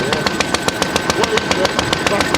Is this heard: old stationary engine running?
yes